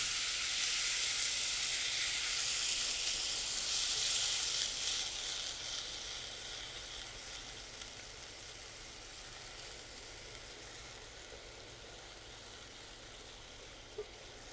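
Water poured onto fried spice masala in a pan of brinjal curry, giving a loud burst of sizzling hiss that slowly fades to a softer steady bubbling over about fourteen seconds.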